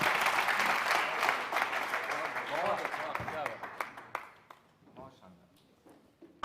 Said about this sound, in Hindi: एक बार जोरदार तालियां हो